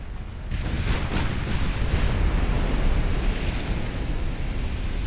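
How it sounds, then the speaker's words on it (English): Torpedoes detonate at sea in the naval game Ultimate Admiral Dreadnoughts, a surging roar of blast and churning water with a few sharp bursts near the start, sustained and moderately loud. "we detonate all your torpedoes"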